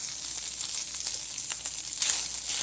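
Ground meat browning in a pan for shepherd's pie, a bright continuous sizzle with faint stirring scrapes throughout.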